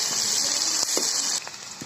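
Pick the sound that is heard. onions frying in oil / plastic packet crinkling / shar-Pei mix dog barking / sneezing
onions frying in oil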